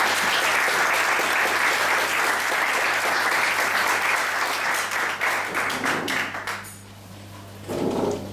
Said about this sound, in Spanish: agradecemos nuevamente un aplauso al doctor Banoli